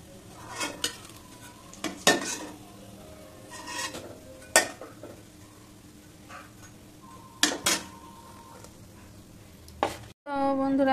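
Rui fish fingers are lifted from hot oil, with sharp metal utensil clinks and scrapes against a pan, soft stirring clatter and a faint background sizzle.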